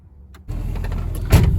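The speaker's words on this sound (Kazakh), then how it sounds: "машинаны жақсы тез оталды" A car engine cranks and fires up in freezing weather, the car frozen after an overnight wash; a brief quiet gives way at once to a steady, close low rumble, with a small bump in level as it settles into idling.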